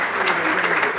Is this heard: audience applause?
yes